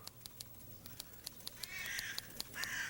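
A tame jackdaw gives a run of short, sharp calls at a quick, fairly even pace, faint against soft background noise. A louder, harsher call or two comes in near the end.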